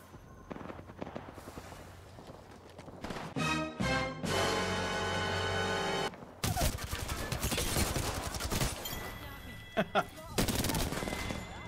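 Automatic and burst gunfire in the Apex Legends battle royale, loud sustained volleys and sharp single shots across the whole stretch, with players talking over the shooting.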